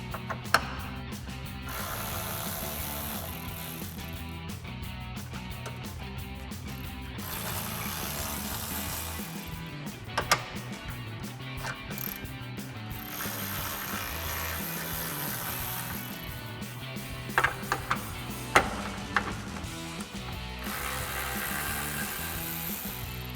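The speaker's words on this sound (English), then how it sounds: "So we'll grab a 10mm socket to pop these out." Ratchet with a 10mm socket backing out bolts on the grille of a 2010-2018 RAM 2500 pickup, a steady mechanical clicking run with a few sharp metallic clinks, close by.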